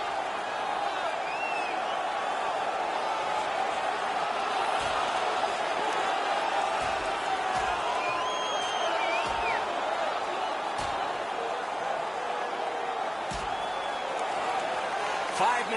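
Steady roar of a hockey arena crowd on its feet during a fight in a game against the Chicago Blackhawks, constant and loud beneath a commentator's voice.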